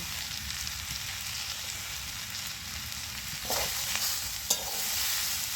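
Tomatoes go into red amaranth stalks frying with salt and get stirred. A continuous close sizzle carries a few sharper stirring scrapes and knocks in the second half, with no speech.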